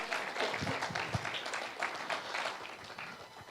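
A congregation at a Spanish-language church service in Utah applauds, many hands clapping in a steady, moderately loud burst that fades slightly toward the end, with a few low thumps mixed in.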